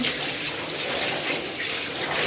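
Running water steadily rinses a dog during a bath, a continuous close gushing spray like a tap or shower head, with no talking.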